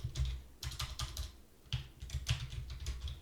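Typing on a computer keyboard while writing code in VS Code, a close, quiet patter of quick keystrokes in uneven bursts with a brief pause midway, no voices.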